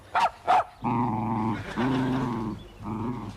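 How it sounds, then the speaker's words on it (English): A bad-tempered small dog gives two sharp yaps, then growls in three long, rumbling stretches, close and fairly loud, with no talk. "She really is a bad-tempered little dog."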